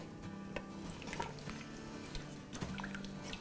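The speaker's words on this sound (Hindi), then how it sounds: "ये हमारे पास 2 कप पानी है, ये हम डाल देते हैं और इसको हिला लेंगे।" Two cups of water poured into an Instant Pot for rice, a soft, steady liquid trickle close by with faint drips and a stir, heard alone without talk.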